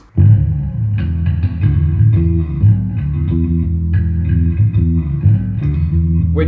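An electric bass guitar plays a funky, syncopated line of short, deep plucked notes with occasional sliding fills, loud and close, alone and without talking.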